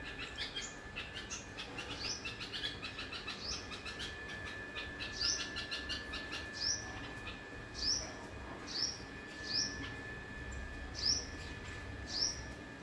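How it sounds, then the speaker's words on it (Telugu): Birds overhead give repeated sharp, high chirping calls in a regular series of bursts about once a second, moderately near, over a steady outdoor background during a morning at home. "ఎన్ని పక్షులు ఉన్నాయో చూడండి పైన."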